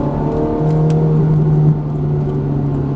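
A loud Ferrari F430 engine revs up on a track with a strong droning tone that rises briefly, then settles, heard close with no talking.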